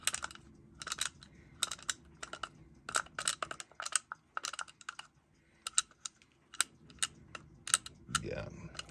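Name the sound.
bad bearing rotating in vintage Klein part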